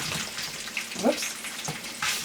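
Strips of food go into a hot non-stick pan for a stir fry, giving a steady close sizzle with brief bursts of stirring and clatter, no voices.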